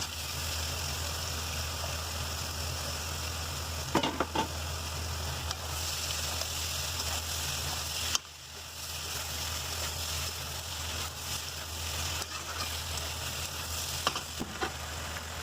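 Continuous soft sizzling of boiled jackfruit frying in a pan, with occasional scraping clinks of stirring and a brief dip midway.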